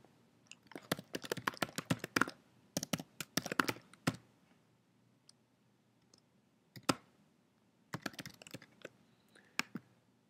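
Scattered clicks of a computer keyboard as a password is typed, bursts of quick keystrokes separated by pauses, close and fairly soft with no talking.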